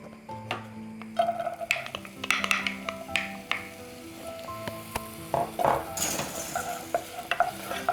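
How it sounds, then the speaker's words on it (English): Onions fry in oil in a saucepan over medium heat, a soft sizzle beneath frequent stirring clinks, taps and utensil scrapes against the pan, close-up with no talk. "And then I'm going to add in the onions."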